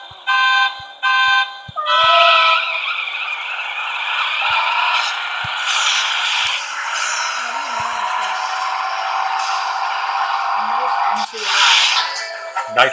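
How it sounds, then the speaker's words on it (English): A racing car engine in the drag-racing game CSR Classic revs with a rising, sustained whine that holds loudly for several seconds after a few short beeps, then drops off near the end. "rev it, baby, rev it"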